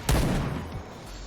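A single loud gunshot blast from a G11 rifle in the game Point Blank at the start, then a decaying rumble with a faint second report.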